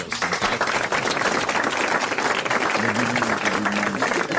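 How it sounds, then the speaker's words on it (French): A French television studio audience applauds a contestant, a dense, steady wash of clapping filling the whole stretch with a faint voice underneath. "Vous allez applaudir monsieur Laclos, qui a bien mérité les grosses têtes"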